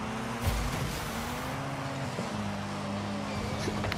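A Ford Bronco car drives in the Rocket League video game, its engine giving off a steady, humming drone with slight shifts in pitch, heard alone and fairly close throughout.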